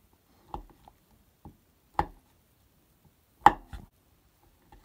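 A Trayvax Trek fixed-blade knife with S35VN steel slicing tomatoes on a board, a handful of sparse, crisp taps and chops spaced about a second apart, close and isolated in quiet.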